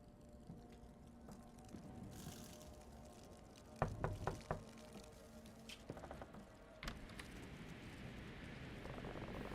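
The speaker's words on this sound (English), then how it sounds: "While sleeping, we are awakened by the sound of someone knocking on our bedroom door." Someone knocks on a bedroom door in the horror game Fears to Fathom, a short cluster of quick, fairly close raps and a second softer set, over a low, steady room hum in a quiet house at night.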